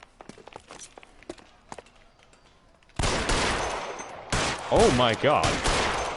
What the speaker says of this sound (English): I just shot you in the head and you took that bullet.